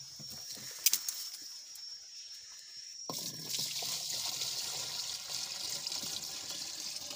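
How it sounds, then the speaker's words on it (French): Water from a bucket pours into a garden sprayer tank: a faint trickle and a few drips give way to a steady, rushing pour that lasts several seconds, with no voices. "Maintenant, tu verses le seau d'eau à l'intérieur."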